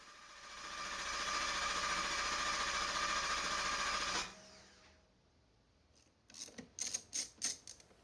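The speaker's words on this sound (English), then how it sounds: "we cranked the engine to depressurize the fuel system." A Ford car engine cranks over with a steady whirring churn for about four seconds to depressurize the fuel system, then stops; after a pause, a few short rhythmic bursts follow.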